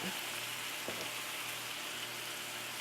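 Ground meat browning in a pan for lasagna stuffed zucchini, a constant soft crackling sizzle close by with a single faint clink, no talking.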